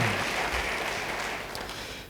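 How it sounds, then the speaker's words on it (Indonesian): Applause from a church congregation during a sermon, a dense steady patter of many hands clapping that holds for about two seconds and then tapers slightly at the end. "Kalau suka, beri tepuk tangan."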